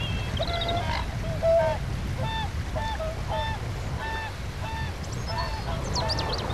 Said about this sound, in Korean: 큰 고니도 때맞춰 번식지로 날아왔습니다.